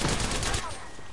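Bursts of rapid gunfire in a shooter video game crackle loudly and close for the first half second, then fade into quieter scattered shots and background noise.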